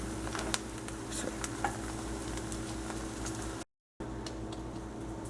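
Ginger and garlic sizzling in a hot pan for black-eyed pea curry, a steady close frying hiss with faint ticks and crackles, briefly cut out near the end.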